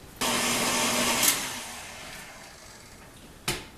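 An electric mixer beating cake batter whirs steadily, starting abruptly, then fading slightly before a short clatter near the end.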